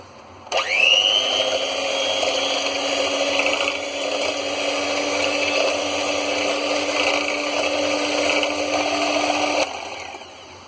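An electric beater whirs steadily for about nine seconds, whipping eggs, oil, milk and sugar into a muffin batter made from leftover roti, a loud continuous motor whine that starts and stops abruptly.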